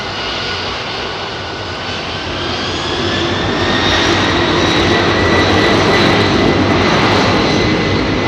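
Jet airliner engines roar at London Heathrow runway 27R, heard close up as a loud, continuous rumble with a rising whine that swells over several seconds.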